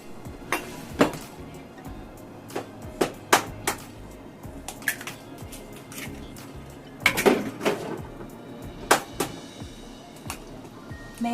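Eggs cracked in a home kitchen while preparing yaki udon wrapped in omelette, a series of sharp, close taps and knocks against a bowl or counter, irregularly spaced, with soft clatter of dishes between them and no talking.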